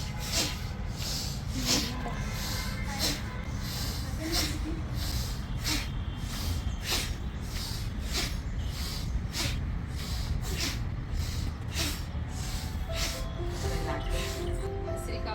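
Rhythmic, forceful breaths through the nose during pranayama breathing exercise repeat at a quick, even pace over a low background hum.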